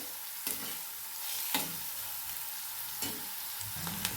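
Onions fry in a pan with a steady soft sizzle while a spatula stirs them, giving a few sharp scraping knocks at irregular intervals.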